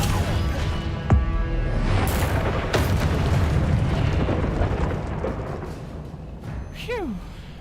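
A Confringo spell blast in Hogwarts Legacy lands as a loud, booming explosion with a rumbling roar that lingers for several seconds, followed by a brief rising whoosh near the end.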